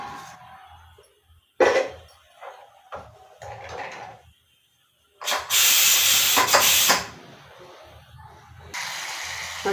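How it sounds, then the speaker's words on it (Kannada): Mustard seeds sizzling and spitting in hot oil for tempering, a loud sustained hiss bursting in midway and fading, with quieter kitchen clatter and someone speaking around it. "ಎಣ್ಣೆ ಬಿಸಿಯಾಗಿದೆ, ಸಾಸಿವೆ ಹಾಕೋಣ."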